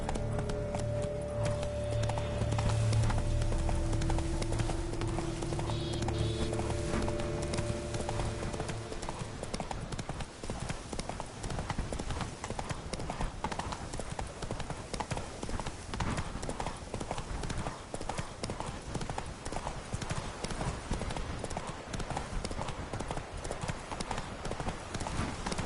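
Horse hooves clip-clop steadily in Witcher 3: Blood and Wine, set in Toussaint, a rapid rhythmic beat running throughout over faint ambient game sound.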